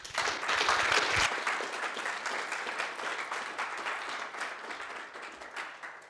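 An audience applauds at the close of an academic programming-languages workshop at POPL 2024. The clapping is sustained and crackling, strongest at first and then easing slightly over about six seconds.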